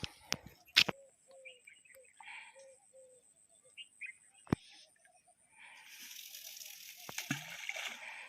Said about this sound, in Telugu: సో ఇప్పుడు వాటర్లో త్రో చేసాం చూడండి